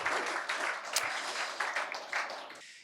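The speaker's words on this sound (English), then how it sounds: "So a round of applause for you folks," A brief burst of audience applause at a presentation, moderate crowd clapping that is fairly soft and steady before cutting off abruptly.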